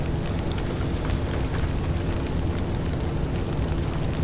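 A grenade explosion in the video game Delta Force: Xtreme 2 comes through as a loud, sustained broadband roar of rumbling noise, dense and steady for the whole stretch with no talk.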